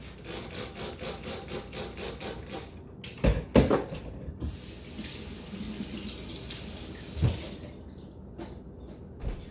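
Tap water runs into a sink for washing fruit and vegetables, a steady close splashing stream with a few knocks and clatters of the pan or produce against the basin.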